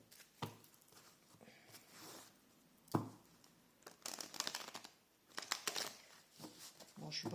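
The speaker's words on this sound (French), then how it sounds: "je suis pas une pro du mélange de cartes" Oracle cards of a triad deck shuffled by hand somewhat clumsily, a close, quiet run of papery riffles, slaps and crinkles coming in uneven bursts with no speech.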